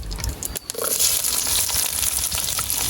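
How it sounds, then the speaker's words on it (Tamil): Mustard seeds crackle and spatter in hot oil in a home kitchen pan, a steady loud sizzle with scattered pops lasting throughout, no voices. "கடுகு படிக்குது."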